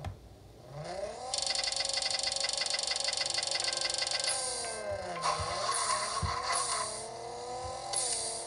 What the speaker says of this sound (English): That's how you launch and race the Ford Focus RS500 tuned for the 1650 lobby